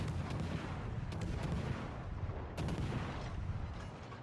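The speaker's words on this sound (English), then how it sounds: "he fires that salvo at the ship in front of me" A battleship fires gun salvos in World of Warships Legends. Several heavy booming shots land over a constant rumble of battle, loud and close.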